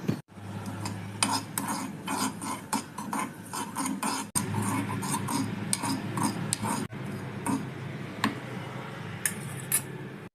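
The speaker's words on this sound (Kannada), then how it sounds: "ಎರಡು ಸಣ್ಣ ಸ್ಪೂನಷ್ಟು ಕಸಕಸ ಹುಡ್ಕೋತಾ ಇದ್ದೀನಿ" Poppy seeds are roasted in a pan, with a spoon scraping and clinking against the metal in repeated irregular strokes over a low steady background, close and clear with no speech.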